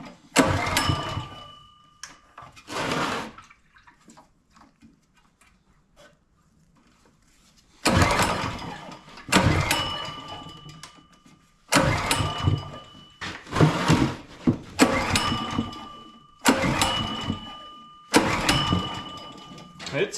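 A Kohler 6.5 small engine left outside for ten years, cranked on old gas at half choke: repeated loud bursts of pull-starting and sputtering firing, separated by short gaps, with voices talking nearby.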